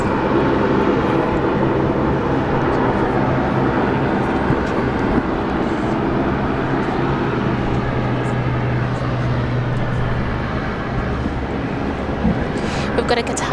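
A jet airliner passes low overhead at a busy international airport, its broad roar steady throughout with a faint whooshing, whipping wake turbulence mixed in, while people talk over it.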